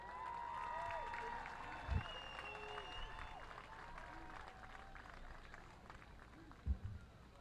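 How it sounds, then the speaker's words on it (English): A stadium crowd at a high school varsity football homecoming applauds the homecoming court. The clapping is faint and distant, a soft continuous wash with a couple of brief thumps, and voices sound over it. "let's have a nice round of applause for the 2024 Mount Carmel Area Homecoming"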